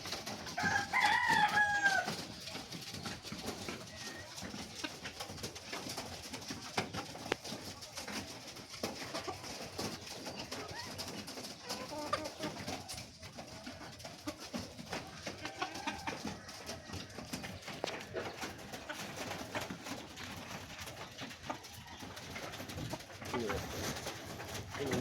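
Pigeons coo softly amid a noisy, crackling background, the low burbling calls repeating on and off.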